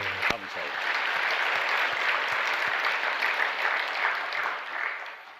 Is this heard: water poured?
no